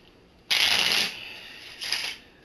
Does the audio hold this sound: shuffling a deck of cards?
yes